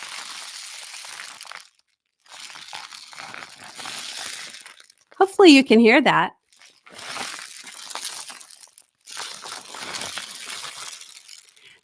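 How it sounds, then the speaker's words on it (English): A homemade rain stick made from a paper towel tube full of rice is turned again and again, making long soft hissing cascades that break off briefly while someone speaks. "This is called a rain stick, and I made it out of a paper towel tube and put rice inside"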